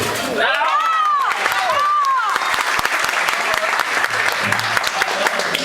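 A comedy club audience applauds for Peru at a stand-up show, dense clapping filling the room with scattered cheers and a few whoops over it, steady and loud throughout.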